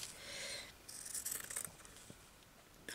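Scissors snipping and sliding through paper or fabric for a sewing journal craft page, a few close, soft cutting strokes with rustling in between, no talking.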